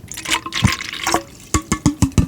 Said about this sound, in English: I'm going to dump this water back into my water bottle, just so you can get that sound.